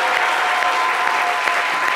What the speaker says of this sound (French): David Tailloro, applaudissements.